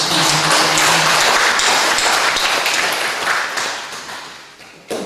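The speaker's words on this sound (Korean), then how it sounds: "수고해 주신 우리 어린이, 효동 어린이들을 위해서 따뜻한 박수 한번 드리겠습니다." A church audience gives warm, dense applause for children at a Parents' Day Sunday service, sustained and loud before fading near the end.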